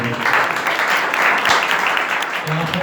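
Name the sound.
loud applause in church for God's glory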